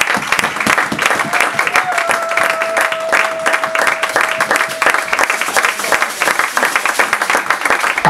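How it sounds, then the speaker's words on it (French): A church assembly at a Brussels missionary gathering applauds continuously, a dense, loud wash of clapping with cheering voices and a sustained acclaiming cry rising above it. "je voudrais que l'Assemblée puisse le recevoir quand il se met debout par les acclamations"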